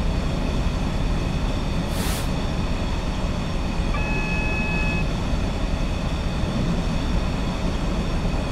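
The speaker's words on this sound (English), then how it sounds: "I'm just going to allow the train to continue to coast along here" A Class 66 diesel freight train in Train Simulator 2015 coasts along a Scottish line from Ravenstruther toward Mossend. It gives a steady, loud rolling rumble and hiss throughout, with a brief whoosh and a short high squeal partway through.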